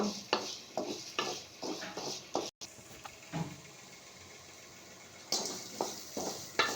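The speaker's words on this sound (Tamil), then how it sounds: "நல்லா ஃப்ரை பண்ணிடலாம்" Taro root poriyal stir-fried in a pan, with rhythmic scraping and tossing strokes over a soft sizzle, a pause in the middle, then more stirring toward the end.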